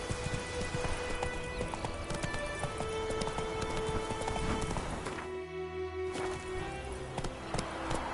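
Horse hooves gallop in a steady, dense clip-clop rhythm throughout, fairly close and loud, with a brief dip in the middle as other noise thins out.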